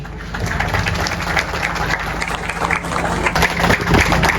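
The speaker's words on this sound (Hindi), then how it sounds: "आप सबकी भरपूर तालियों में" A crowd at a traders' meetup claps steadily, a dense patter of many hands that holds at the same loud level throughout.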